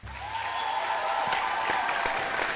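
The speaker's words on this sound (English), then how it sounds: "please give them a big round of applause as they make their way off stage" Audience at a vocal competition show applauds steadily as contestants walk off stage, a dense, even wash of many hands clapping with no talk over it.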